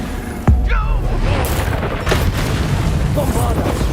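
A Bombarda spell goes off in a Hogwarts Legacy goblin battle, a sharp booming blast near the start with a crackling tail, then continuous rumbling combat noise with smaller impacts under the fight.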